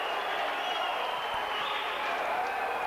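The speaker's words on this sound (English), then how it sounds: "Crowd comes alive with that one." Boxing crowd at an amateur bout roars after a right hand lands, a broad, steady wash of cheering and noise that holds at full level throughout.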